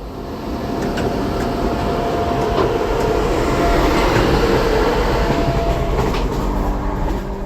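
Train at a railway station, a steady loud rumble of rolling wagons with rhythmic clatter and occasional squeaks and clicks, close and sustained throughout with no talk.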